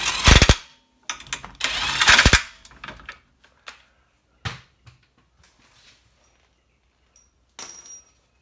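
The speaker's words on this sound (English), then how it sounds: "Impact gun, lightest setting." An impact gun on its lightest setting rattles in short bursts against a Toyota MR2 axle nut, followed by scattered clanks and taps, then quiet.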